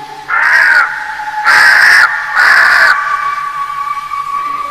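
A crow caws three times, loud and close, each harsh call lasting about half a second, with a steady tone lingering underneath.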